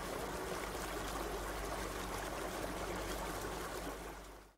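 A river flows in a Unity game scene with spatialized sound: a steady, broadband rush of water with no talking, cutting off at the end.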